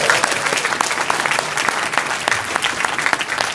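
An audience at a mental health conference claps together, dense and loud applause running continuously with scattered sharper claps and faint crowd murmur.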